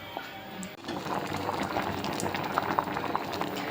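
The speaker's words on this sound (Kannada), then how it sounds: "ಚಕೋಲಿ ಎಷ್ಟು ಕುದಿಲತ್ತದ ಇಲ್ಲಿ" Chakoli, a North Karnataka village-style dish, bubbling in a pot as it boils, with a steady close simmering churn and a few sharper pops, no voices.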